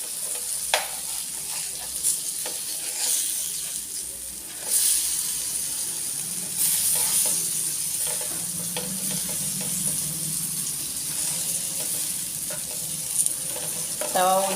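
Fish fry in oil on a tall pan gives a continuous hissing sizzle, close and steady, with occasional clinks and scrapes as the pieces are flipped.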